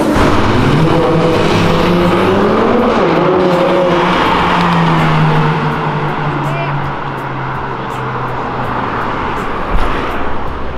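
A drift car passes along Avenida Europa, its engine note sweeping up and down in pitch as it goes by loud and close, then fading into a steady roar of traffic.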